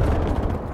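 A grenade blast in Call of Duty Black Ops Cold War multiplayer, a loud, low, rumbling boom that fills the whole short moment and fades only slightly toward the end.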